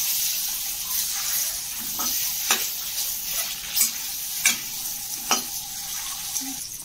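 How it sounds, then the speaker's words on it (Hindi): Eggs fry with turmeric in hot oil for an egg curry, giving a steady close sizzle with a few spaced crackles and spoon clinks from stirring. "तेल रे अंडा को फ्राई कर देइछु। तापर आमे हल्दी पकेइबा। पकेइकी एबे फ्राई करिया।"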